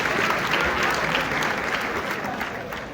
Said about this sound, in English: Let's make some noise for that one.